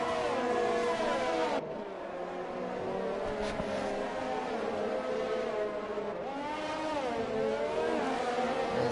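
Formula 1 cars, McLarens and Ferraris, racing around the Singapore street circuit in a racing video game, several high-revving engines whining and shifting pitch close together as a tight pack.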